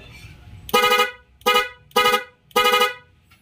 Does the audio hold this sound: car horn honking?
yes